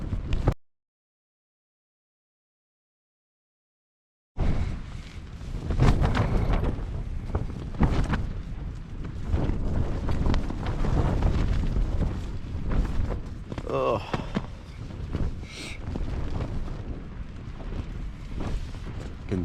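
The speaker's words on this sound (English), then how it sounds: "Getting some really strong gusts now." Strong wind gusts buffeting a Hilleberg Enan tent pitched on a cliff during a rainy storm, a loud continuous roar with surging bursts after a brief silent gap, no talk.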